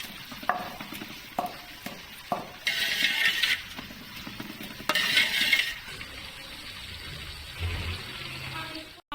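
About a kilogram of onions frying in a large biryani pot give an uneven sizzle with scraping and clattering of a stirring spoon, two louder bursts of hissing, and some background noise.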